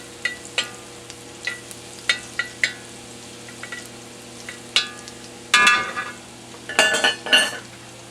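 Stir frying in a wok greased with sesame oil for an oyster sauce stir fry: scattered metallic clinks of a utensil on the pan, then louder bursts of sizzling and scraping toward the end.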